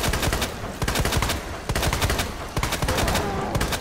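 Rapid bursts of gunfire in Resident Evil 2 during the William Birkin boss fight, loud and dense, with shots overlapping into sustained volleys throughout.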